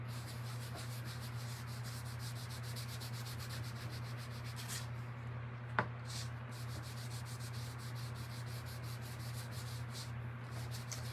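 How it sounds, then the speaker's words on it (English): Wax being rubbed by hand over a wooden door hanger, a close, steady, brushy scrubbing in quick repeated strokes over a constant low hum, with one sharp tap partway through. "So let's just wax it all"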